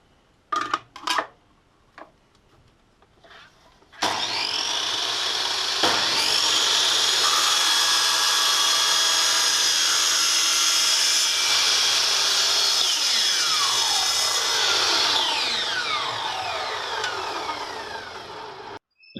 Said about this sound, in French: Commençons tout de suite le face-à-face par la découpe à la scie circulaire.